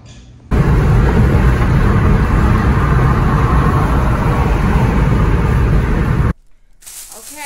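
Car interior noise on the drive home, a loud steady rumbling roar of engine and road that runs for several seconds and then cuts off abruptly.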